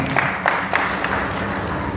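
An audience at a sales training session claps loudly on cue, a dense, close wash of applause with a few sharper individual claps standing out.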